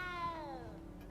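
A single cat in Hogwarts Legacy gives one clear, drawn-out meow that falls in pitch over about a second, heard alone against quiet background hum.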